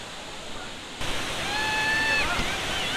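Rushing roar of Hogenakkal waterfall, a steady broadband wash that swells louder after a quiet first second, with faint whistling tones and wind over it.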